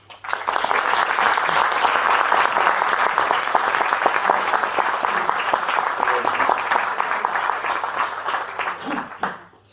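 Sustained audience applause for Vítor Carvalho at a book presentation, steady dense clapping filling the room for about nine seconds before fading out abruptly.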